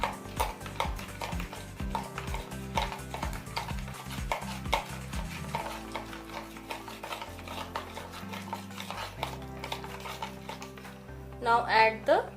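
Yogurt seasoned with regular salt, black salt and red chili powder is mixed in a bowl, giving steady scraping stirring strokes over background music.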